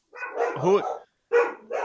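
Dogs bark in loud, close bursts: a longer run of barking, a short pause, then two more quick barks.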